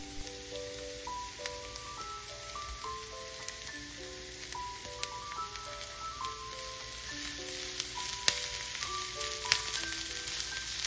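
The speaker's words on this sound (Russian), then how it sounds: "Подливаем еще немного масла и пассируем все вместе до красивого золотистого цвета." Grated carrot and onion sautéing together in oil in a pan, giving a steady, close crackling sizzle with scattered sharper pops, heard beneath a soft melodic background tune.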